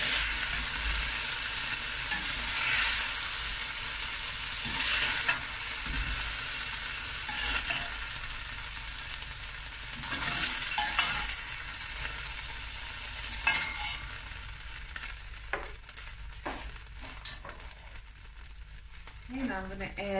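Meat for a steak pie fries in a hot pan, a steady bright sizzle layered with scraping stirs and a few louder clatters of utensils near the end.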